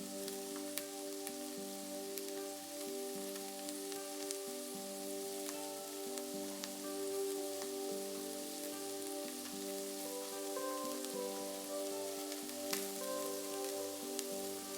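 Fresh peas being stir-fried in butter make a soft, continuous sizzle, like light rain. It runs steadily beneath quiet melodic background music, with no voices.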